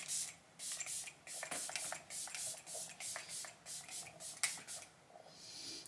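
Setting spray misted onto facial skin during a makeup routine, heard as a long series of soft, close hissing pumps in a steady rhythm, each a brief airy burst, with no talking.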